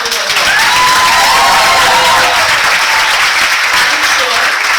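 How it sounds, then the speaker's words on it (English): Audience applause at Finalysis 2024, an event presented by APT and BYJU'S, a loud dense wash of clapping filling the room from start to finish with voices mixed into the crowd noise. "Let's give a big round of applause."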